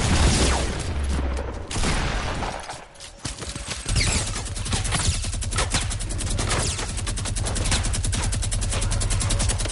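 Heavy AR assault rifle fire in a building shooter game, rapid sustained automatic bursts loud and close, briefly broken after the first seconds, then a long steady stream of shots with little talk.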